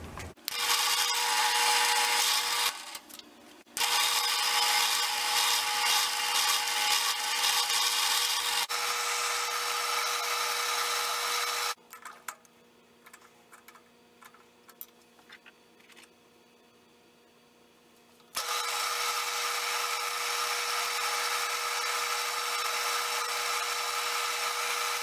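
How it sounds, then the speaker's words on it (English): Power drill boring a hole into the end of a steel rifle cleaning rod for a Norwegian M1912 Krag carbine, a loud steady whir in long bursts with a quieter pause between runs. "I'm starting on the cleaning rod and I'm just going to drill a hole on the end here"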